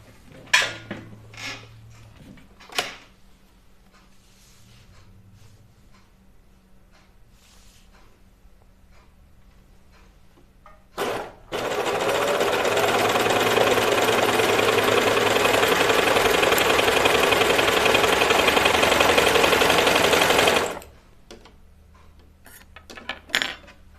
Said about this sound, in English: I'm just going to sew a little bit.